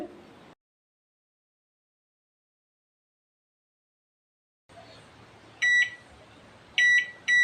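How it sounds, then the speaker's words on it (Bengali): A microwave oven heats edible gum for three minutes, its low hum starting up after a silent stretch, then a couple of loud, bright electronic beep bursts signalling the end. "আঠার মতো আমি ঘি ছাড়াই মাইক্রো করে নেব তিন মিনিট"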